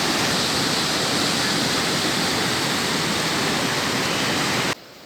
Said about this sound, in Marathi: ही मंदाकिनी नदी.